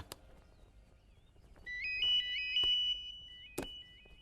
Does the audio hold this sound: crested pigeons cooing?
no